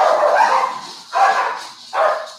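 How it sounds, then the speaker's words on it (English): Dogs barking and yapping in a scuffle somewhere behind, three loud bursts close together, the first long and the next two shorter, each fading before the next. "That's awesome. Doggy fight."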